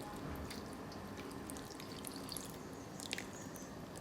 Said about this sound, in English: I'm just gonna pour this Guinness custard